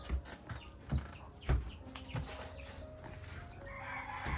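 A chicken clucks and crows nearby, with scattered soft knocks and faint background noise around it.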